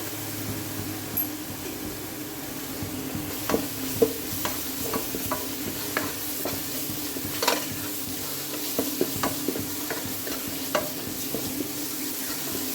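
Squid masala gravy frying in a pan for Kerala squid fry, a continuous sizzle under scattered spoon clicks and scrapes as it is stirred, close, with a low hum in the background and no talking.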